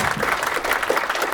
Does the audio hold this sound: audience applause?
yes